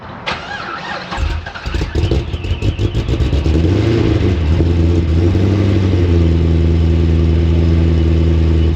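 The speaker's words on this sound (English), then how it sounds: "We're gonna start it up with the cutouts closed." A supercharged Pontiac GTO cranks over and fires up with its exhaust cutouts closed, then settles into a loud, steady, deep idle, close and alone.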